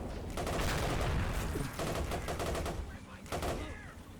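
Mortars firing from a fortress in a video game, heard as a dense rumble of overlapping blasts and bursts of gunfire, loud at first and easing off, with a voice talking over part of it.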